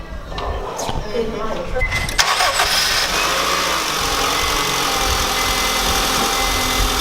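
A Honda Civic engine cranks and catches partway through, then settles into a steady, close mechanical idle hum with a faint rattle.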